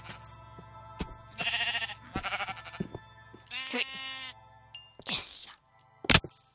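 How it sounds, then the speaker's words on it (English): Several sheep bleats from Minecraft on Xbox 360, short wavering cries repeated through the clip alongside other clicky game sounds, fairly close and clear with no talking. "And let's go and kill this sheep."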